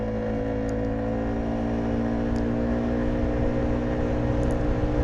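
A motorcycle engine drones and climbs steadily while riding, recorded from a helmet-mounted camera with the visor open, a close, continuous hum with rising pitch and light wind rush.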